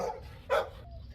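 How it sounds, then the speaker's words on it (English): A dog gives one short, close bark in a garden setting, a single sharp yip-like burst between quieter background moments. "He just keeps starting to bark every time we start talking."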